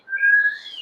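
One short whistle made by blowing air through narrowed lips, close and clear, gliding upward in pitch for under a second with no other sound around it.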